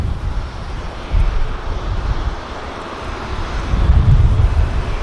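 A distant airliner of Saudi Arabian operation takes off from runway 23L at Manchester Airport, a broad low roar of jet engines swelling and fading amid gusty wind noise.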